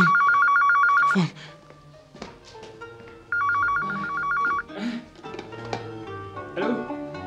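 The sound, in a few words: telephone ringing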